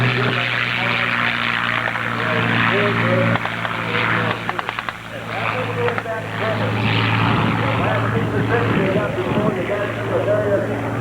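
A propeller-driven advanced trainer aircraft with a 600-horsepower engine at the EAA Oshkosh airshow gives off a steady droning engine hum, with someone talking over it and a brief burst of clicks partway through.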